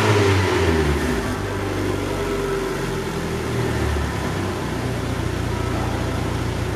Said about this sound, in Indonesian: Getarannya itu khas banget, khas mesin-mesin Amerika yang emang agak kesannya rough gitu